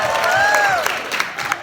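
An event audience applauds and cheers for Curt and Tashina at a Diamond Minds bootcamp: steady crowd clapping and whoops, fairly loud and continuous, with a few sharper individual claps standing out.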